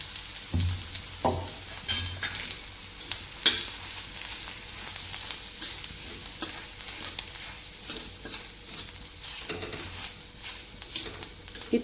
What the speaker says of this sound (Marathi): लोखंडी तव्यात जिरे, मोहरे आणि आपण बनवून घेतलेलं वाटण.